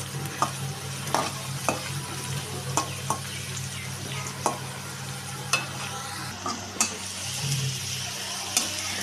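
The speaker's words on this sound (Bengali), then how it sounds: "তো আমার ভাজাটা হচ্ছে, আপনারা দেখতে পাচ্ছেন।" Carrot, potato and pumpkin pieces frying in oil in a pan for dalia khichdi, a continuous close sizzle broken by regular clicks of a spatula stirring.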